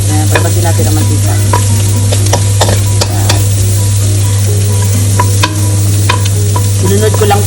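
Pork sisig fries in a pan as its fat renders out, a loud, close, continuous sizzle with scattered pops and occasional stirring scrapes, under a steady low hum.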